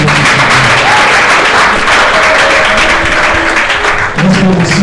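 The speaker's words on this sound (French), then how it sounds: "Est-ce qu'on peut l'acclamer?" A church audience applauds a guest at a gospel singers' school evening, steady continuous clapping filling the room for several seconds with some crowd murmur beneath it.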